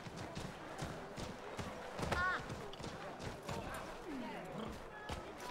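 A horse's hooves clip-clop in Assassin's Creed 3, a steady rhythm of soft thuds trotting close by, heard under someone talking over game sounds.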